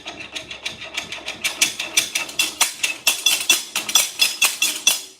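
A Harley-Davidson engine idles with a rhythmic metallic knocking from the crankshaft, repeating quickly and steadily, close and mechanical with no talking.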